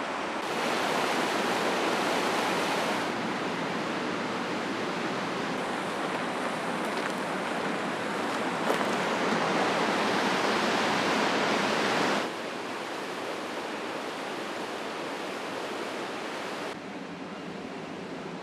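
Low Force waterfall on the River Tees gives a loud, steady broadband roar of rushing water, nearby and unbroken, shifting slightly in level as the listening position changes.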